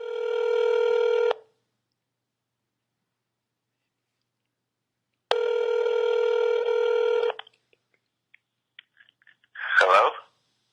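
An electronic phone tone sounds twice with a long silent gap between, followed by faint clicks and a brief burst of muffled noise.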